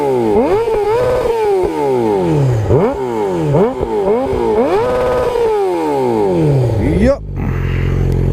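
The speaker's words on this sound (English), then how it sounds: "So there you go. That's my motorcycle" A customized motorcycle with aftermarket upgrades revs loudly up close, its engine rising and falling in repeated sharp throttle blips for several seconds before cutting off, with a brief spoken word over it.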